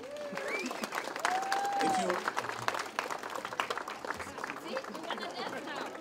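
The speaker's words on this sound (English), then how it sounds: "How about another round of applause?" A crowd applauds at an immigrant-tribute mural unveiling outdoors, with steady clapping mixed with chatter and voices, while a rising whistle-like tone cuts through early on.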